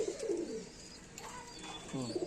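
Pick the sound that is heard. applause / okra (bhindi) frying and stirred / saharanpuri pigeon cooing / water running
saharanpuri pigeon cooing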